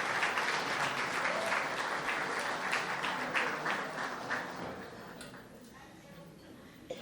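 Dinner guests applaud staff at La Mazzeria at Bella Vista during the Boyertown Area Progress Dinner, a dense, full round of clapping that holds steady for several seconds, then thins and fades toward the end.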